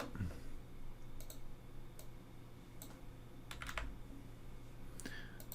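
Light typing on a computer keyboard during office work, a few scattered key clicks and short bursts spread across the moment, quiet and close.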